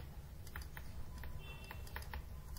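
Soft, quick keystrokes on a computer keyboard as program code is typed, irregular clicks over a faint steady background hum.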